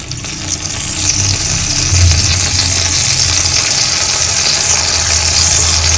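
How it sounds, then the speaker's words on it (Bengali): Pabda fish frying in a pan, a steady broad hiss and sizzle of hot oil running without a break, fairly loud and close, with a low background hum and no talking. "এবার আমি এর মধ্যে দেব মাছটা নিয়ে একটু অল্প করে ভেজে নেব।"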